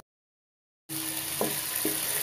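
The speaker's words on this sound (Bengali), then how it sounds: "আদা রসুনের পেস্টটা ভাজা হয়ে গেছে" Two tablespoons of ginger garlic paste hit a hot pan for egg biryani, starting as a sudden, steady sizzling hiss after silence, with a couple of faint stirring clinks.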